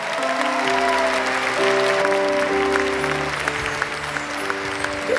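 Loud applause from a concert audience in a large hall, steady dense clapping throughout, with sustained musical tones from the stage running underneath.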